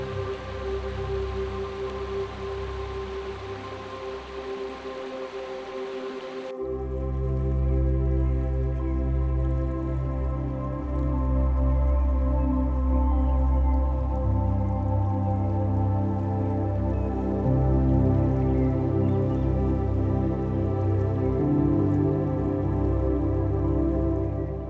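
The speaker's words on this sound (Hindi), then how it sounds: "इस समय वाटर फ्लो है यहाँ से, तो पूरी स्ट्रीम आ रही है पानी की, चलती हुई आ रही है" A stream of meltwater runs beneath a frozen waterfall on the trek from Fairy Meadows to Beyal Camp near Nanga Parbat. It makes a steady, dense rushing wash that grows fuller partway through and carries on without a break.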